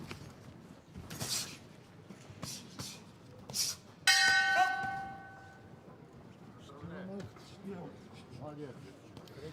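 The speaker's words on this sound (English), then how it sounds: "So that goes the bell at the end of this" A boxing ring bell clangs sharply to end the final round of a heavyweight amateur bout, ringing out with a long fading tail over arena crowd noise, followed by a commentator's voice.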